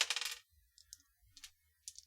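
Several dice rolled for a tabletop role-playing game, a quick burst of hard clattering followed by a few scattered light clicks as they settle, close and quiet, with no talk.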